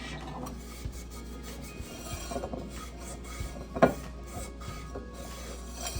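Soft rubbing and scraping of a wet paper towel over a clay casserole pot, irregular strokes with one sharper knock, close by and without talk.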